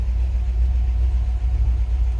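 A 1960 Ford F250 4x4 pickup engine idling just after a cold start with the choke out, a steady low rumbling idle close by.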